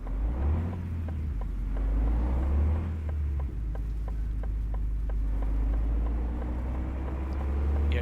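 DAF truck engine in Euro Truck Simulator 2, a low steady rumbling drone that shifts pitch slightly as it runs, moderately loud and continuous without talk.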